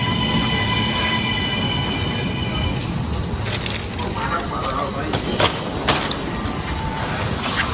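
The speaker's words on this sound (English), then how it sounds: "Getting on the train." A train in Portugal rumbles steadily with a broad low roar, high tonal whine early on and a few sharp clanks and squeals later, heard from on board or close by.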